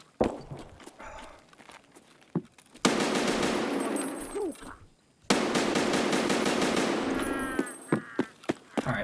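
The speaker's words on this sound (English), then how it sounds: "we've gone through our 3 mags and shot a little bit out of each of them" Automatic gunfire from the shooter game Escape from Tarkov comes in two long sustained bursts of rapid shots, separated by quieter moments with footsteps and gear noises, then a few single sharp shots at the end.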